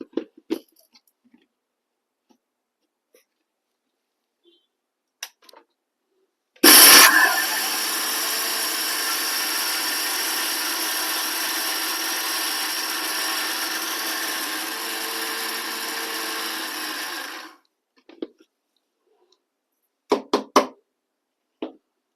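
A mixer grinder whirs steadily for about ten seconds as it grinds roasted red gram and dried chillies for kandi podi, loud and continuous, with a sharp start and a clean stop between a few light knocks and clatters.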